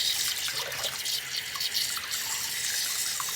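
Running water rinses a hedgehog's feet, a steady hissing tap stream with faint splashes and drips, continuous and close for a few seconds with no talking.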